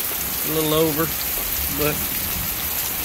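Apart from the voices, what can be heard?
rain during a thunderstorm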